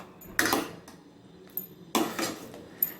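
Stirring vegan kadhi in a pot with a utensil: a few bursts of scraping and clinking against the pot, near and moderately loud, separated by quieter pauses, with no talking.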